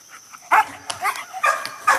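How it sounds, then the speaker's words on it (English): A German Shepherd guard dog barks outdoors, a few sharp separate woofs spaced irregularly, fairly close and loud, with no talking over it. "Good, faithful German Shepherd, protect dog, guard dog, multi-use dog."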